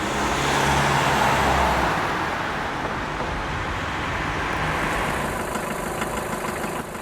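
An old white car rolls slowly up on a rainy night and comes to a stop, its engine a low steady rumble over road noise, louder at first and then settling to a softer idle.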